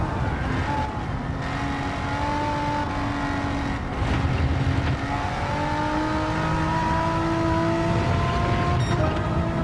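In Gran Turismo 7, a hard-to-handle tuned track car's engine drones continuously, its pitch climbing and dropping through gear changes as it revs, loud and up close with no talking.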